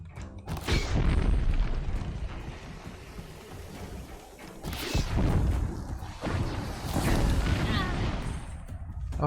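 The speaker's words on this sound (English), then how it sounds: "oh hey, that worked. It blew up." Oseram fire weapon explosions in Horizon Zero Dawn, deep booming blasts with rumbling low-end bursts near the start, middle and later, over continuous game ambience.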